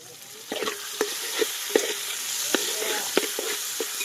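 Onions, chillies, tomatoes and ginger paste fry in a pan for mutton gongura, a steady sizzle punctuated by regular scraping knocks of a stirring spoon against the metal, close and alone.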